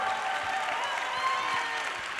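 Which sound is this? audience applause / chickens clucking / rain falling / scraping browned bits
audience applause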